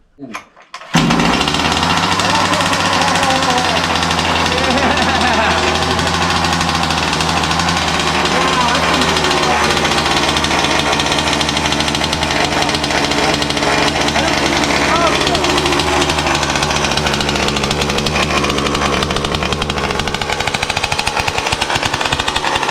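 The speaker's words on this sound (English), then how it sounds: "it's a great way to break in your engine" A Rovan 45cc RC car gas engine being broken in roars continuously at high revs, loud and close, with a steady buzzing drone and slight pitch wavering throughout.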